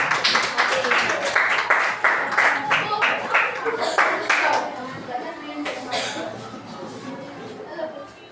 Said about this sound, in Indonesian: Silakan duduk tepuk tangan untuk yang dapat juara